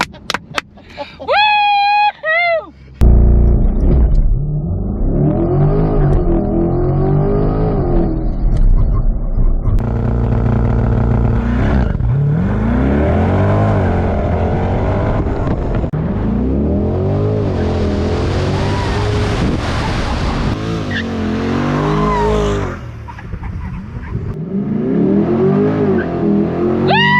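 Chevrolet Corvette C8 with 495 horsepower launching under launch control: a brief voice at the start, then a loud engine roar surging through repeated upshifts, heard from inside the cabin with occasional excited shouts.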